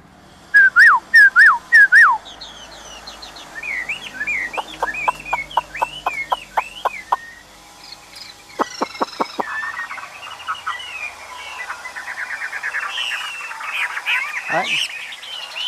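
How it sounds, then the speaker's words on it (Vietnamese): A Chinese hwamei songbird, a 75-gram bird in moult, sings loud, fast varied phrases of whistles and trills close by, with brief pauses and faint background noise. "Các bác thấy con chim hot luôn không?"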